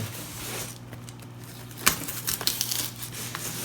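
Tape peels off a potted plant in short crinkling, tearing bursts, one sharp rip followed by several smaller crackles, close and fairly quiet.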